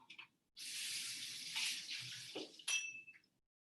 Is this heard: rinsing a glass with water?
yes